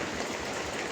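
Rain falls steadily at an outdoor vegetable stall, making a soft, continuous patter with no talking.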